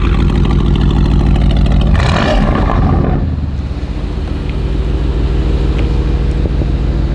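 A 2019 Aston Martin Vantage engine revs hard in a loud surge, then settles back into a deep, steady idle rumble, close to the listener.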